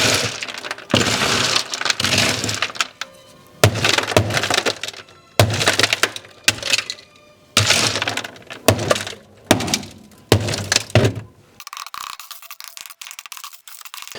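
Frozen tar mats are whacked off the floor pan of a BMW E34, giving a series of sharp, loud cracking and splintering impacts in separate bursts with short pauses between them.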